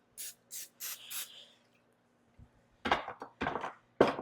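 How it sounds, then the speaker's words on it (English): Short bursts of cooking spray hiss close up onto a 9 by 13 baking pan, four quick sprays, a pause, then a few more longer sprays with a light thunk. "So I'm just spraying a 9 by 13."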